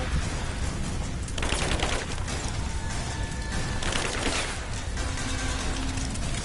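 Sustained bursts of automatic gunfire and scattered shots from a firefight in the video game Rise of the Tomb Raider, loud and dense throughout with mechanical clatter mixed in.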